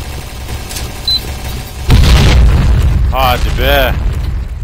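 A video game explosion during an online clan match lands as a sudden, heavy boom partway through. Excited voices talk over the rumbling aftermath.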